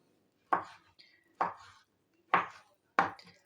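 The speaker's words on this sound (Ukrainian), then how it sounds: "Починаємо нарізати моркву." Four distinct knife chops through carrots on a cutting board, evenly spaced about a second apart, crisp and close in an otherwise quiet room.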